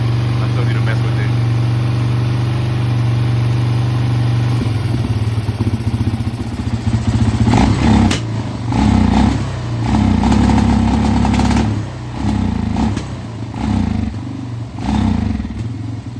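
An abandoned Suzuki ATV engine idles steadily and loudly up close, a low continuous drone with clattering pulses and a slight rise in idle partway through.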